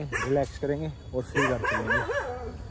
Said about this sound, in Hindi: अब तो खैर कुत्ते भौंक रहे हैं यहाँ पे